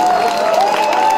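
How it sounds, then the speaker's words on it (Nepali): Audience at a Walling Multiple Campus gathering claps and cheers together, a brief, steady wash of applause with crowd noise. "ताली त बजाइदिनुहोस् मेरो लागि।"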